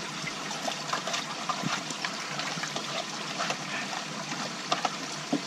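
Water streams steadily over a garden pond filter cover as it is rinsed, a continuous close splashing gush with small irregular drips and knocks throughout.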